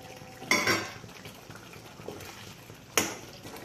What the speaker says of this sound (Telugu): అవుతున్నప్పుడు ఫ్రై చేసుకున్న చికెన్ పీసెస్ వేసేసుకుందాం.